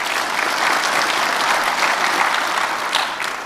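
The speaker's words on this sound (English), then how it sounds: "So let's give them a round of applause." An audience at an annual conference awards presentation claps in sustained, dense applause, steady and loud for the whole stretch before tapering slightly at the end.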